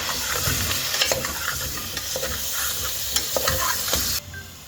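Crushed raw tomatoes sizzle in a chicken karahi cooked dhaba style, with steady frying hiss and scattered stirring scrapes and clicks close by. The sizzle drops off sharply near the end.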